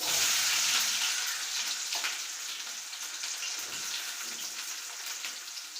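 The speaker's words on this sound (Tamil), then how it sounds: "கடுகு பொரிஞ்சிட்டு இருக்கு" Mustard seeds spluttering in hot oil for upma, a dense bright crackling hiss that starts loud and eases slightly, steady and close with no talking.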